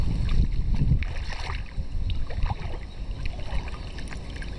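A pony wading through water makes steady sloshing and splashing close by, with wind rumbling across the microphone throughout.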